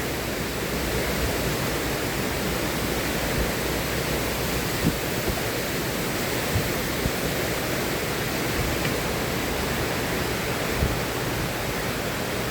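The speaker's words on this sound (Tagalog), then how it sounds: "Grabe, lakas ng ilog oh." Loud, steady roar of a fast-flowing river near lakes around Saalbach and Zell am See in Salzburg, Austria, a dense rushing wash that fills the whole clip without pause and with no voices over it.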